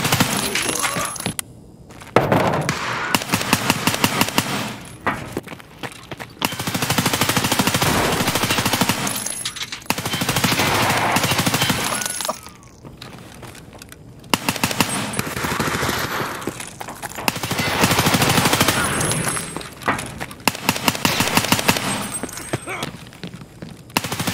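Full-auto gunfire from a 100-round magazine in Escape From Tarkov, fired in long sustained bursts with brief pauses between strings, loud and dense, with shell and metallic clatter mixed in.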